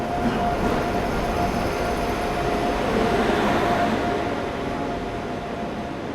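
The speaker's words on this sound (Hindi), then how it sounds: "पश्चिम एक्सप्रेस आ गई" The Paschim Express rushes past on the rails with a loud, steady rumbling roar and rattling wheels, sustained close by for several seconds before easing slightly.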